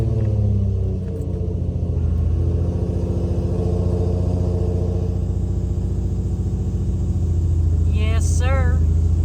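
An Infiniti G35 with a swapped HR engine and a newly installed oil cooler idles as it warms up, a deep, loud, steady rumble with a constant low throb, alone without talking.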